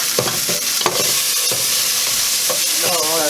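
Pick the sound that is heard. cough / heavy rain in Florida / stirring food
stirring food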